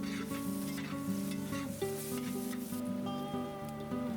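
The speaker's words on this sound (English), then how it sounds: "in the existing oil, I'll add the garlic mix and stir it constantly for about a minute" Garlic mix fries in hot oil while being stirred constantly, giving a steady, fairly quiet sizzle with soft stirring scrapes over a continuous humming tone in the background.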